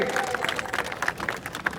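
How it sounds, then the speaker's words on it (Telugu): Audience clapping at a statue unveiling ceremony, a fairly close burst of scattered claps that keeps going throughout, with voices faintly mixed in beneath. "గట్టిగా ఒకసారి చప్పట్లతో స్వాగతం కోరుతా ఉన్నాం"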